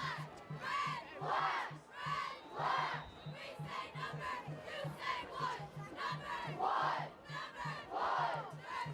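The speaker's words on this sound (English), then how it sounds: "We hear some cheering from the fan section." A crowd of high school football fans in the stands cheers and chants in loud rising and falling waves, mixed with shouting voices and a rhythmic pulsing beat underneath throughout.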